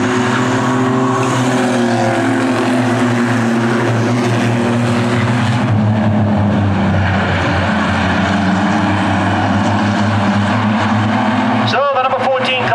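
Race cars circling nose to tail at Lee USA Speedway, a loud, sustained multi-engine roar with a shifting pitch, under race commentary.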